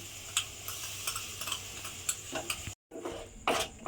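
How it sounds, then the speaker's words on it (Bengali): Spatula scraping and stirring palm pulp in a wok, with repeated soft clicks and scrapes at an uneven rhythm, close and fairly quiet, broken by a brief dead gap before the stirring resumes louder. "এবার তালটাকে এইভাবে একটু নেড়ে নেড়ে রান্না হতে দিতে হবে।"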